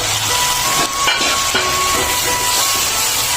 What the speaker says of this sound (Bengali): এখন আমি দিয়ে দেবো সামান্য অল্প পানি